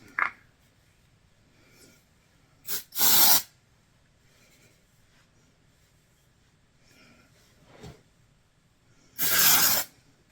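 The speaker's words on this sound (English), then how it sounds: "this is their dry texture spray" Two long, loud hissing bursts of dry texture hair spray from an aerosol can, one early and one near the end, separated by quiet stretches with faint handling noises.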